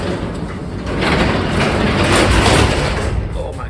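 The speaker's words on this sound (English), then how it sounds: "We're gonna close the garage door for full effect." A residential garage door rolls closed, a steady sustained rumble and rattle of panels and rollers that rises in the middle and keeps going to the end, close by with no talk over it.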